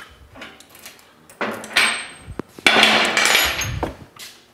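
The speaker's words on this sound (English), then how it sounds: "We'll repunch it so it grabs that axle." Metal is repunched to grip an electric car's axle, giving a few sharp, close impacts and clanks in uneven bursts separated by short pauses.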